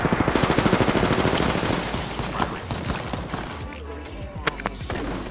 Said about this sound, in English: Keep shooting at him, MJ.